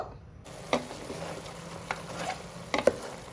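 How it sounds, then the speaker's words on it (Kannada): Mutton frying in oil in a pan for a home-style curry, a steady close sizzle with scattered clicks and stirring scrapes, no talk. "ಮಟನ್ ಚೆನ್ನಾಗಿ ಫ್ರೈ ಆಗಿದೆ ಎಣ್ಣೆಲಿ"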